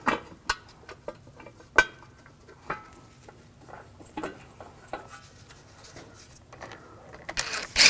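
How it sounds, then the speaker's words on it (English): Ratcheting tool clicking in short bursts while screws on the rear wheel hub shield of an Audi S4 are tightened, close and crisp metallic ticks separated by brief pauses, with a sharp clack near the end. "Get the screws started and tighten these down."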